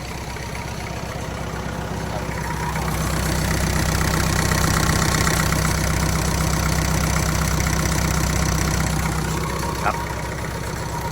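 A Kubota M5000su or L5018 tractor engine idles smoothly and steadily nearby, a continuous low rhythmic diesel chug with a slight rise in loudness partway through, and someone speaks over it.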